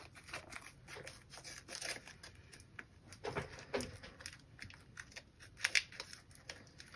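Quiet snipping and crisp cutting clicks as tape mod edges on a cheap keyboard are trimmed, at an irregular pace, close by, with faint handling noises in between.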